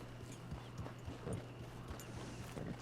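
Horse hooves clip-clopping at a walk in the Western game Red Dead Online, a soft, regular plodding rhythm near the listener over a low ambient hum, with no clear whinny standing out.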